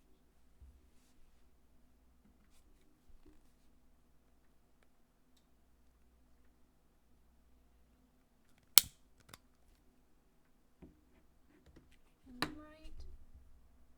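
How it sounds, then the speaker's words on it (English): Foley clicks recorded for a Jurassic Park scene come as a few sharp isolated snaps, two close together near the middle and another later, against near silence with a faint hum and soft handling noise. "I'm just going to start it right here so I can get that click in as well."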